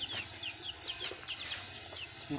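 A little chicken at home clucks and peeps in quick, high, repeated notes, near and moderately quiet, with soft scuffling in the background.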